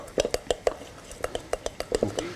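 Ingredients seasoned with black salt and red chili powder are mixed in a bowl with a utensil, giving a run of sharp, regular clinks and scrapes at about four per second, close and moderately loud.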